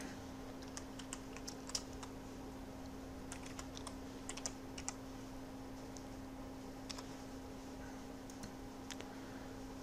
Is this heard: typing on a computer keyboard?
yes